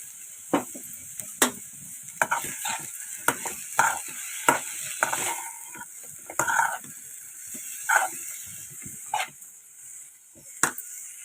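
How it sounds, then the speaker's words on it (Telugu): Cumin and tempering seeds sizzling in hot oil, a steady frying hiss broken by sharp clicks and spoon taps against the pan, with no voices. "దానిలో ఆయిల్ వేసుకొని తాలింపు గింజలు వేసుకుంటున్నాను"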